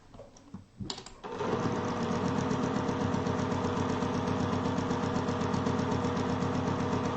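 After a few soft handling noises, a sewing machine starts up and runs steadily, stitching fabric pieces back together for foundation paper piecing with a fast, even mechanical rattle close by.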